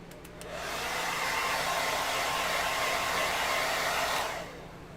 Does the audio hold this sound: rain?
no